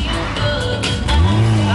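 A car reversing at a monster show hums with a low engine drone under excited shouting voices, its pitch rising near the end as it pushes backward.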